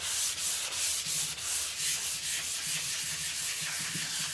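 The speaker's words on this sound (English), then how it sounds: "Anyone else love that sound of sanding, like the sandpaper?" Close, rhythmic scratchy strokes of sandpaper rubbing back and forth over a wooden furniture surface finished with hemp oil, steady and unhurried with no voices.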